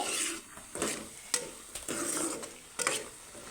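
Curry leaves drop into hot oil for egg curry, giving a soft, close sizzle broken by a few sharp stirring knocks against the pan.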